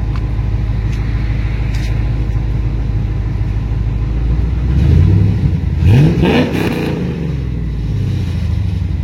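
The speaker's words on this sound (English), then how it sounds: "Yeah, the exhaust sounds good." Car exhaust fitted with a Hooker muffler idling with a steady deep rumble, then rising through two quick revs midway before settling back to idle, loud and close with no talk.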